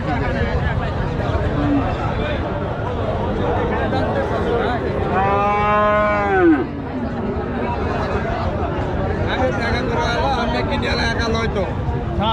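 Cattle at a busy livestock market in Panchbibi: one drawn-out moo rises midway through constant crowd chatter and nearby talking, with the hubbub of the market filling the background.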